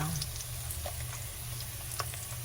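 Chopped ginger fries in a hot pan with a steady, close sizzle and light crackle, unbroken throughout with no talking.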